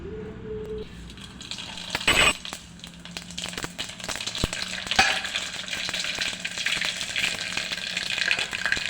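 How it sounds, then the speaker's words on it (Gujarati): Mung beans being tempered crackle and sizzle in hot oil in a cooking pot, a continuous close hiss dotted with sharp clicks and spoon scrapes that thickens after the first couple of seconds, with no voices. "આપણે મગ વઘાર્યા છે"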